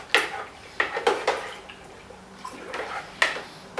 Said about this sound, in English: I like to just give it a bit of a stir, just to mix it through, get it going a bit quicker